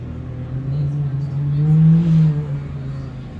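Pro R and Turbo UTV side-by-sides race at the High Desert 100 in Powell, Wyoming, a steady engine drone swelling as revs climb, then easing off, heard from a distance without talk.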